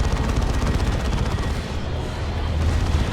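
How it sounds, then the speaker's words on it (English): Rapid heavy weapon fire from a Land Raider Redeemer in a Dawn of War 2 battle, a loud, dense stream of blasts and rumbling booms that runs without pause for a few seconds. "eviscerated by Land Raider Redeemer shots"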